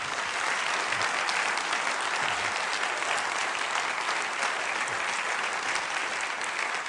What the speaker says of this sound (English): So I think they deserve a round of applause too.